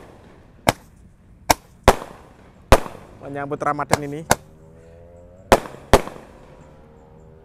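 Firecrackers set off in the late afternoon to welcome Ramadan crack in sharp, separate pops spaced irregularly, about eight in all, with a short stretch of talk between the bangs.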